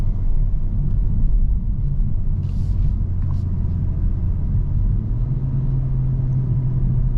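A 2024 BMW M440i coupe's B58 engine accelerating, heard from inside the cabin as a steady, loud low rumble, with a droning tone that firms up toward the end.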